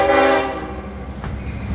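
A train arriving at a station sounds its horn in one loud, sustained blast, followed by the low rumble of the train rolling in; the sound is close, with no talking.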